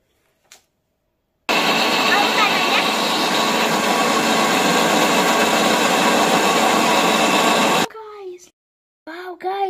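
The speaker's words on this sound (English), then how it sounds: "Now let's blend." A kitchen blender whirs loudly and steadily for about six seconds, blending a finger millet and banana smoothie, then cuts off abruptly, followed by brief speech.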